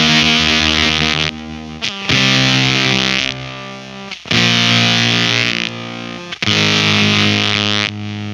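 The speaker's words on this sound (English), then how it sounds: "With low settings like it is right now," Electric guitar through a Beetronics Vezzpa Octave Stinger octave fuzz pedal at low sustain settings, giving loud buzzy fuzz chords that cut off sharply, gated, in four separate bursts.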